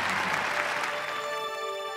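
Steady, dense applause from a concert audience for a singer at a Sichuan TV fireside-style music show, filling the whole moment with even clapping and no pauses.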